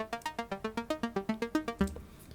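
Clicky, bright Logic ES2 synth patch in its raw unprocessed form, about a dozen quick plucked notes in an even rapid pulse, quiet and isolated, ending on a longer note.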